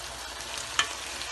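Onion rings go into capsicum keema frying in a pan, giving a steady, close sizzle with a brief clatter as they drop in.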